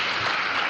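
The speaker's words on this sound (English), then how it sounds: "Can we get another round of applause for Clyde coming out and speaking?" Audience at a conference on racism applauds a speaker, a brief, even wash of clapping from many hands with no voices on top.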